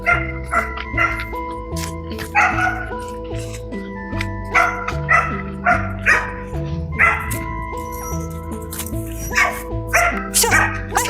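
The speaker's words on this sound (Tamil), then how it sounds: "இந்த நாய் உழைக்கிறதுனால தான் இந்த கண்ணுக்குட்டி குதிக்கிறது" A dog barks and yips repeatedly at close range while herding cattle in open grazing land, in quick bursts with short pauses between them.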